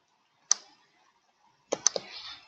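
Mouse clicks inside a quiet office while someone works in process-modeling software: one sharp click, a pause, then a quick double click followed by faint clatter, close and crisp.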